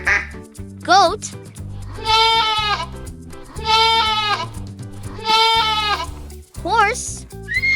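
A goat bleats in several long, wavering calls, each loud and close, amid upbeat children's nursery music with a bright backing track throughout.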